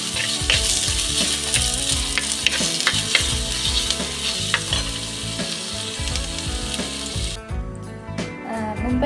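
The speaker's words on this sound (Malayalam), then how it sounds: "എല്ലാം കൂടി ഇട്ട് നന്നായിട്ടൊന്ന് ഒരു ബ്രൗൺ കളർ ആകുന്നത് വരെ ഒന്ന് ഇളക്കണം." Ginger, garlic and onion fry together in a pan for a Kerala-style fish curry, a loud, close sizzle with repeated scraping stirs that cuts off abruptly near the end.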